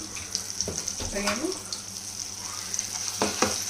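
Ginger garlic paste fries in a little oil for a prawn pickle, giving a steady close sizzle with a few clinks of stirring and a brief murmur of a voice partway through.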